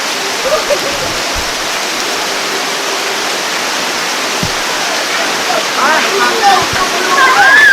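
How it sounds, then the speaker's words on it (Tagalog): Heavy rain after a typhoon pours down in a dense, steady hiss that swells louder toward the end, with people talking faintly underneath. "Inabot na po kami ng ulan."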